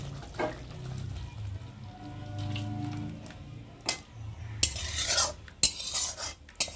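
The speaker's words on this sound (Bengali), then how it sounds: "একটু ভালো করে নেড়ে নেব, সস দিয়ে একটু ভালো করে ফুটে নিলাম।" Momo chutney being stirred in a pan, with soft low bubbling and repeated metallic scrapes and clinks of a spoon against the pan, growing busier toward the end, close by and without speech.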